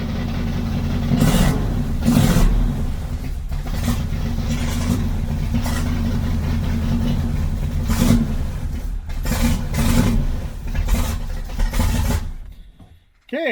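A 1979 Chevrolet Corvette C3 engine runs steadily while the car backs up in reverse. It is loud and close, with a few revving surges, and cuts off abruptly near the end.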